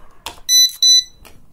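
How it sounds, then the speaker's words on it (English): A UNI-T AC voltage detector gives two loud, high electronic beeps in close succession, each lasting about a fifth of a second, with faint handling clicks around them. "and it is beeping."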